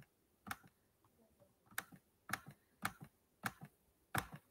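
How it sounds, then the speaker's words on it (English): Computer mouse clicks pick dots one by one while the shift key is held, making six sharp, close clicks at an uneven pace against a quiet background. "click each dot while holding the shift button"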